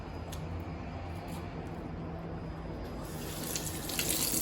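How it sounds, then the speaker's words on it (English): Tap water runs steadily over potatoes being rinsed in a kitchen sink before peeling for a Japanese potato salad, a close, continuous splashing rush that brightens and grows slightly louder near the end, with no talking. "Usually I'll give them a quick rinse first."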